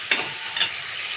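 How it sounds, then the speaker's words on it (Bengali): Tomatoes melting down in a hot pan for a vegetarian ash gourd and bori dish, a soft steady sizzle with two quick stirring scrapes. "এখন টমেটোটা একটু গলিয়ে নেব।"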